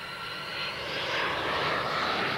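A Czech Air Force MiG-29A fighter jet flies slowly at about 250 km/h with gear up during an air show, its engine roar a broad, steady rush that swells slightly as it passes, with no talk over it.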